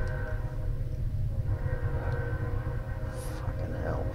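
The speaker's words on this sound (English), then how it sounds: "That rumbling from that train is just throwing off my train of thought." A passing train rumbles low and steady in the background, a continuous heavy drone with a brief high squeal or horn-like tone near the end.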